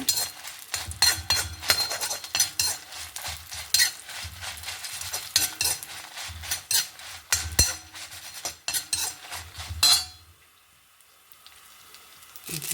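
Mustard seeds, fenugreek, urad dal and chana dal roast in a pan while a spoon stirs and scrapes, giving close, busy clinks and scraping under a soft sizzle that stops abruptly near the end.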